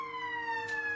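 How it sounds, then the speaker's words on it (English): A police-style emergency siren holding a steady, slowly falling wail, moderately distant and continuous. "Oh, I hear a siren."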